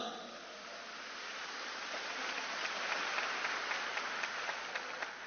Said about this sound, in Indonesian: Beri tepuk tangan yang meriah untuk beliau